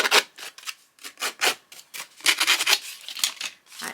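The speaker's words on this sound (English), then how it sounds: "Scrub up the edges a little bit because we don't want it looking perfect." Paper edges being scrubbed while stencilling a vintage travel journal: a run of short, brisk rubbing strokes in an uneven rhythm, close and clear, with no talking.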